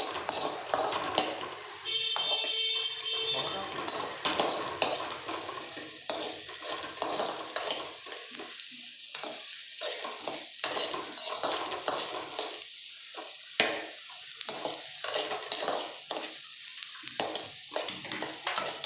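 Ginger garlic paste frying and sizzling in a pan while being stirred, with steady hiss and intermittent scraping of a spoon against the pan, close and continuous with no talk.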